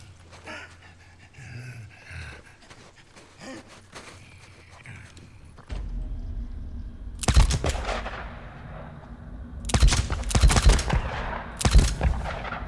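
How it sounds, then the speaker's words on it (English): Repeated gunshots in the video game Days Gone, several loud sharp cracks in quick bursts after a quieter stretch with panting and movement, close and prominent. "As if it takes this many shots."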